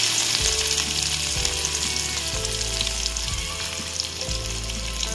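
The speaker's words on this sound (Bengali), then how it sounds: "এবার নামানোতেই পেঁয়াজটা দিয়ে দেবো" Chopped onion frying in hot oil in a thin wok taken off the heat, a loud steady sizzle throughout with a few low knocks from the pan, no talking.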